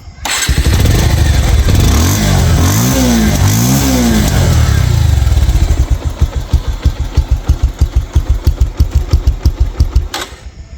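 A 2023 Bajaj Pulsar 150cc ABS motorcycle engine cranks and starts loudly up close, revs a few times, then settles into a rapid, steady putter at idle.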